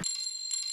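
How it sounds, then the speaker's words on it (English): Triangle sample in FL Studio, two bright metallic rings with sustained high overtones, the second struck about half a second after the first. "And then something like this triangle."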